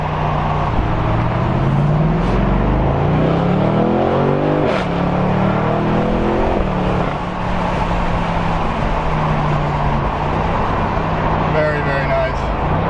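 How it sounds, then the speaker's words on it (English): A BMW 8 Series engine drones steadily throughout, its pitch rising and falling with the revs, while someone talks over it. "The revs really crawled up on me."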